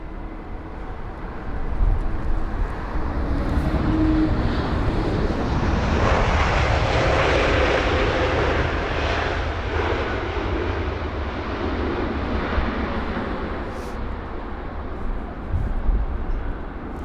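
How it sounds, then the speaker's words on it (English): An Airbus A320neo landing at London Heathrow on a windy day, its reverse thrust roaring loud and sustained for many seconds as a broad jet rumble that swells and slowly eases. "Some very loud reverse thrusts on board that 320 Neo."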